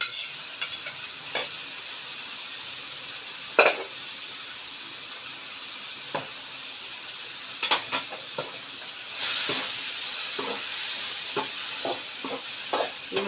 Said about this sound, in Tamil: வெங்காய மிளகாயெல்லாம் வதங்கிடுச்சு